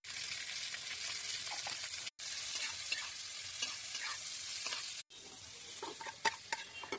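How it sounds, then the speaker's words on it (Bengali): Capsicum and onion, salted and tossed with fennel seeds, fry in ghee in a wok, giving a steady close sizzle with occasional stirring scrapes, heard in three short stretches separated by abrupt cuts. "কড়াতে 1 চামচ ঘি আর তাতে অল্প মৌরি ফোড়ন দিয়ে একটা ক্যাপসিকাম আর একটা পেঁয়াজ নুন দিয়ে হালকা ভেজে তুলে নিলাম"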